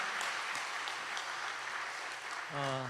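A church congregation at a Sunday morning service claps in a steady, moderate wash of applause that fills the room, with a brief tonal sound rising at the end.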